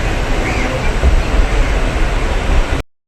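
A Sealdah–Barrackpore galloping local train runs with a loud, close, continuous rumble and rattle that cuts off abruptly just before the end.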